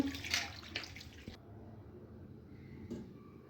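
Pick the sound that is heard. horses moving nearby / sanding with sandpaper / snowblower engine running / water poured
water poured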